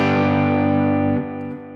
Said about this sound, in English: So here's the Princeton reverb.